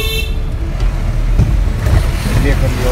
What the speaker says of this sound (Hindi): काफ़ी ज़्यादा स्पीड में हम यहाँ पहुँचे हैं और ये हम करने वाले हैं इसको ओवरटेक